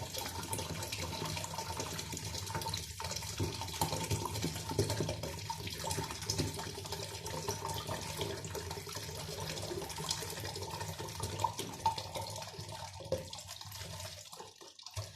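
Steady pouring of fruit juice into a container for homemade wine, a continuous liquid gush running unbroken for about fifteen seconds at moderate loudness with no voices.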